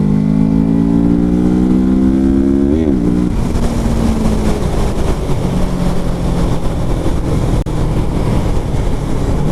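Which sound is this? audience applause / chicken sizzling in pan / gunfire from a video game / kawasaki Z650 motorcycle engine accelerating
kawasaki Z650 motorcycle engine accelerating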